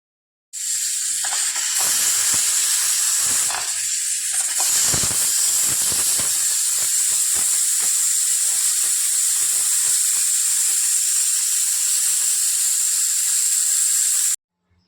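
A pressure cooker of vegetable peanut khichdi hissing steam, one loud continuous hiss that runs unbroken for many seconds before cutting off.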